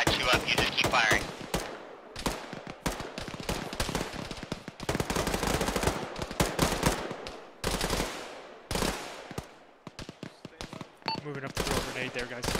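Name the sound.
gunfire in a military video game firefight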